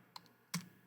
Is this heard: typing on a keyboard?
yes